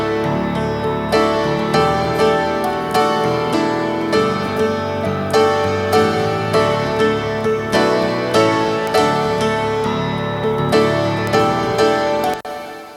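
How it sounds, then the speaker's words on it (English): Layered piano playing bright, full chords in octaves, steady rhythmic strikes sustained throughout, loud and close, ending with a sudden cutoff; no talking. "sounds like a big, epic 80s double octave piano"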